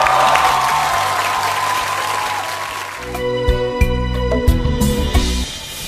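Audience applause at a televised Vietnamese bolero singing competition, a dense wash of clapping for about three seconds before music takes over.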